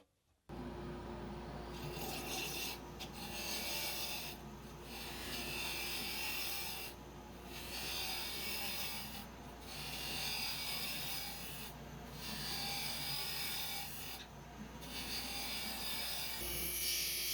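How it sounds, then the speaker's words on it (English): A steady abrasive scraping of a parting tool against spinning wood on a wood lathe, pulsing in regular waves with short pauses, close and continuous over a low motor hum. "I came in with the parting tool"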